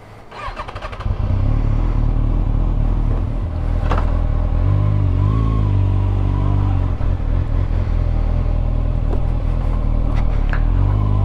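Kawasaki ZX6R Ninja sport motorcycle engine starting up and then revving hard under full-power acceleration, a loud, close, continuous engine roar with rising and falling pitch and no talk over it.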